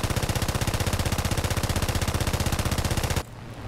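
An aircraft machine gun fires in War Thunder, a rapid, loud, evenly spaced stream of shots lasting about three seconds before cutting off abruptly into quieter engine hum.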